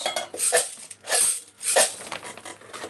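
Rattling bursts from bean-filled shakers in a loose rhythm, three main swishes of hard little beans shaken back and forth, close and fairly loud.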